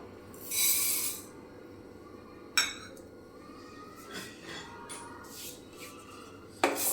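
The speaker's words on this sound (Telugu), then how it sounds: "ఫస్ట్ మనం ధనియాలను వేయించేసుకొని పక్కకు తీసేసుకుందాం." Coriander seeds dry-roast in a pan, heard as quiet scraping and rubbing with a few sharp metallic clinks from a utensil against the pan, spaced irregularly.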